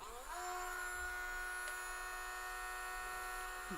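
A CST 12-volt cordless rotary tool runs up to maximum speed, its faint, steady high-pitched motor whine climbing briefly at start-up and then holding an even tone.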